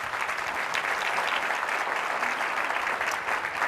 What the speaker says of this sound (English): We want to give them a round of applause and thank you.